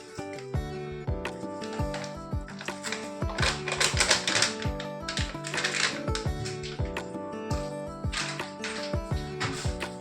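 A utensil stirs bajji batter in a bowl, making quick, repeated clinking taps against the bowl in a steady, busy rhythm, close by and without talking.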